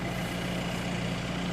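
A vineyard tractor engine idles steadily, a constant low rumble with a firm hum, close by and with no talk over it.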